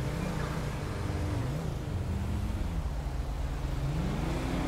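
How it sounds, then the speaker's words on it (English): A car engine in GTA V revs and drones continuously, its pitch rising and falling in waves, loud and close with no talking. "Who's revving the engine up?"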